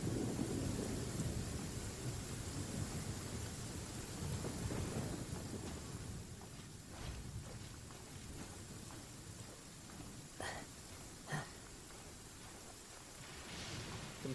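Steady rain and rumbling thunder in a storm within the video game Genshin Impact, a constant low roar of rainfall with a few faint crackling strikes later on.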